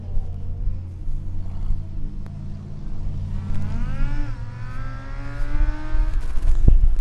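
Formula Student race cars lap an endurance track, with engine drone building and rising in pitch as a car approaches and accelerates past, its whine sweeping upward near the end.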